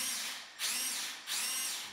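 A power drill running without hammer action bores through plaster on a solid brick wall, a steady high whine in three close, loud runs separated by two brief dips in speed.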